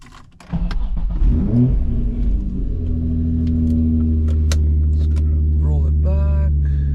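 An Infiniti G35 starts off and drives in wet conditions, its engine note rising into a steady, loud drone that holds close throughout.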